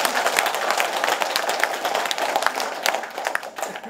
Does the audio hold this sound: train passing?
no